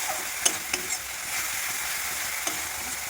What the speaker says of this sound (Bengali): সব মশলা দেওয়ার পর ভালো করে কষে নেবো।